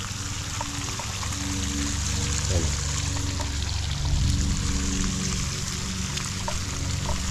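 Water pours and trickles steadily down from the top of a house roof, a continuous splashing stream with a brief spoken word over it.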